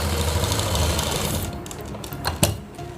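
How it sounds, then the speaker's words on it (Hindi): A sewing machine stitches a readymade kurti with a steady close whirr for about a second and a half, then stops, leaving a few handling knocks and one sharp click. "रेडीमेड कुर्ती में फ्रेंड्स सिलाई पक्की लगाते हैं"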